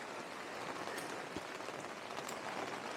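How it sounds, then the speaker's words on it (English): Steady rain falling outside at an allotment, a dense continuous patter of drops on surfaces at even loudness throughout, with no voices. "I'm going to wait for this rain to subside"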